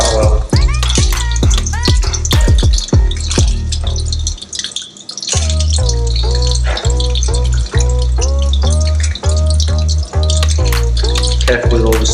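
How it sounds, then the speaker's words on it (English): Blue swimmer crab pieces sizzle and crackle steadily in hot oil for Singapore chilli crab, a dense, close frying hiss that runs throughout with a voice heard over it. "So now it's starting to sizzle."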